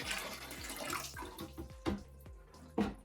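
Water poured from a handheld container into a tank during a power outage, a steady close splashing stream with a few louder gulps and splashes.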